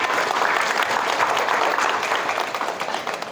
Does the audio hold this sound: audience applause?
yes